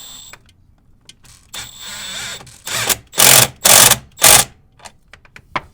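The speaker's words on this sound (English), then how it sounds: "this is the last hose clamp we're tightening up for the cold side." A power tool drives a hose clamp tight on a Ford S550 EcoBoost intercooler charge pipe in short loud bursts, with several quick whirring pulses close together near the middle, then a few small clicks.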